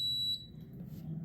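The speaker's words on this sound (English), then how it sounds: "It beeps like that." A Westinghouse air fryer beeps once as it starts, a sharp, close electronic tone lasting about a third of a second, followed by a low hum.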